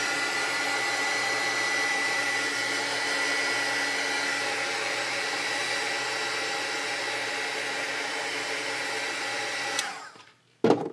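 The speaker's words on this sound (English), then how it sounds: "let me hit it with this dryer." A handheld heat dryer blows steadily at close range for about ten seconds as it dries ink on a craft project. It then clicks off abruptly.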